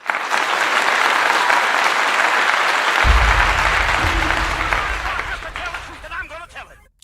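Continuous applause, dense and steady, holds for several seconds, joined by a low rumbling layer partway through, then thins out and fades near the end.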